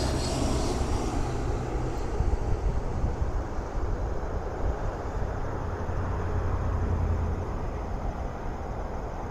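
A private jet lands at Toronto's YYZ airport, its engines roaring steadily and loudly throughout with broadband rumble and some wind noise at the microphone, no talk over it.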